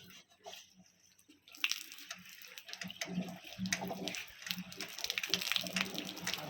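Water runs from the outlet tap of a 500-litre solar water heater, starting quietly and then flowing in a steady splashing stream close by, with faint background noise.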